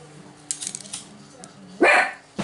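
A dog barks sharply once, close and loud, with softer yips and whimpers around it while someone talks quietly in French during a sewing session.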